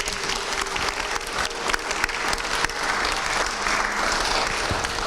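An audience applauds steadily, the dense clapping filling the room and holding at an even level, with a few voices under it.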